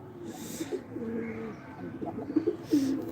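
Pigeons kept at home cooing in short, low throaty bursts, with a louder coo near the end, fairly close and without talk.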